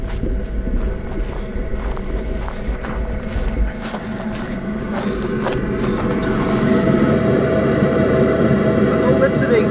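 A loud, steady mechanical rumble and whir from a diesel heater in a bus being converted runs continuously, with some rattling and shifting noise nearby and no talking.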